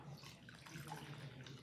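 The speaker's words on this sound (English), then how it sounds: "Rinse this off." Tap water runs steadily as a model train truck from an American Flyer NYC Hudson locomotive is rinsed off during restoration, a continuous close splashing wash with no talk.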